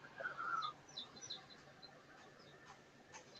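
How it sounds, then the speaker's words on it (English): Small chicks chirping faintly in the background through an open door, a scatter of short high peeps clustered early and then sparser, over quiet room noise. "I hear the chicks in the background chirping."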